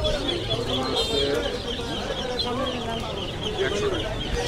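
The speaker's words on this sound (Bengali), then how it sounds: "সোনালী পাকিস্তানি মুরগি" Sonali Pakistani chickens cluck and fuss steadily at a weekly poultry and bird market in Atibazar, Keraniganj, with a busy crowd murmuring close by.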